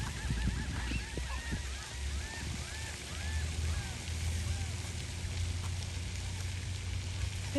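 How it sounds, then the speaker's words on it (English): Ducks and geese outdoors near water, a flock honking repeatedly in short overlapping calls at middle distance over a steady low rumble of background noise. "Look at all the ducks."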